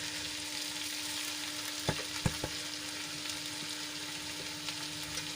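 Parboiled rice being added and stirred into mung bean pulao in a pan, a low steady sizzle with a few sharp spoon clinks against the vessel, fairly quiet and close.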